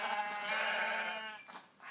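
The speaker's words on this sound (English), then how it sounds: "Having 3 sheep right there." A sheep in the video game Minecraft gives one short, quiet bleat lasting under two seconds, heard alone without any talk.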